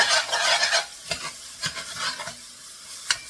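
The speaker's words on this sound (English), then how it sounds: "Let's go get that all stirred into that roux real nicely." Crawfish stew ingredients stirred into a hot roux: a loud, close sizzle bursts at first, then a spoon scrapes and stirs in a few distinct strokes as the hiss settles to a lower crackle.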